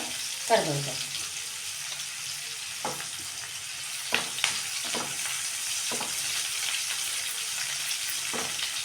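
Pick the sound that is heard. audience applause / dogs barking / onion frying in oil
onion frying in oil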